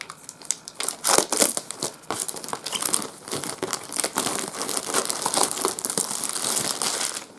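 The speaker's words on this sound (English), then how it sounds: "get the plastic off for you" Plastic shrink wrap is torn and crumpled off a Star Trek CCG Q-Continuum booster box at close range in a rapid, irregular run of crinkles and rips.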